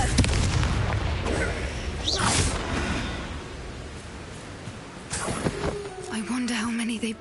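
A Confringo fire-blast spell fires in Hogwarts Legacy during a fight in a spooky spider cave, with loud booming blasts and bursts in a busy battle mix, and a voice speaking over the combat.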